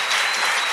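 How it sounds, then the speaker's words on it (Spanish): A seated audience bursts into loud, dense applause at a live interview event, heard as a steady close wash of clapping. "por favor, un aplauso para ellos"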